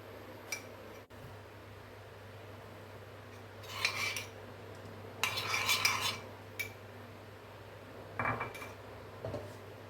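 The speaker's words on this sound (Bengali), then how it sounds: "3 চামচের মতো দই নিয়ে ভালো করে ফেটিয়ে নেব" Curd being whisked with a spoon in a bowl for homemade curd: a few short bursts of spoon clinking and scraping against the bowl, separated by quiet gaps over a low steady hum.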